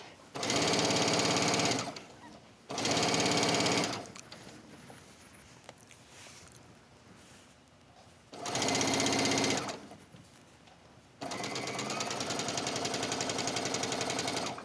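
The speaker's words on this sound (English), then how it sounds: "You don't want puckers up here, so here I'm just gonna stitch." A sewing machine stitching bias tape onto the front edge of a wrap dress, running in three short bursts and then a longer steady run, with quieter pauses and some talking in between.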